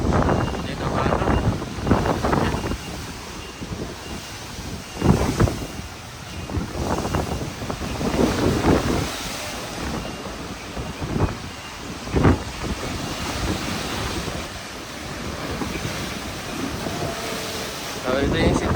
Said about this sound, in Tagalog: Dito ang alon.